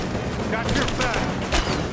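Bursts of gunfire crackle in quick volleys during a Rise of the Tomb Raider firefight, with booming shots under shouted voices.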